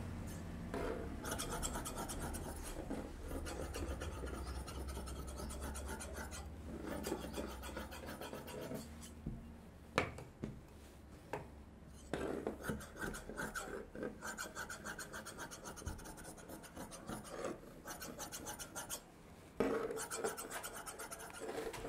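Scissors cut through blouse fabric with a continuous rasping, rubbing sound, close and quiet, broken by short snips and pauses as the material is handled.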